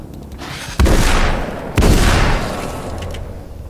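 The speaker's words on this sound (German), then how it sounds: "Zwei Schuss und dann muss man nachladen" Two loud gunshots from the video game Alan Wake's American Nightmare, a sharp blast followed about a second later by another, each with a long decaying echo tail, heard alone without talk.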